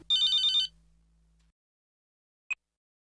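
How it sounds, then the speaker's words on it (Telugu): A telephone rings once in a short warbling electronic burst, loud and clear, then falls silent; a single brief click or beep follows a second later. "అదిగో ఫోన్ మోగుతుంది చూడండి"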